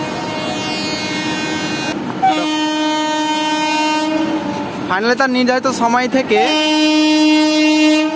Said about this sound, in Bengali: আমাদের ট্রেন ঢুকছে এখন 3 নম্বরে মেমু প্যাসেঞ্জার